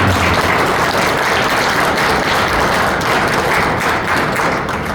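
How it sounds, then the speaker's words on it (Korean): Steady applause from a church conference audience fills the whole stretch, dense and even without pauses. "큰 박수 넣어주시겠습니다"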